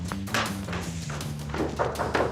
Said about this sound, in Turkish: Nasıl kapı çaldı ki?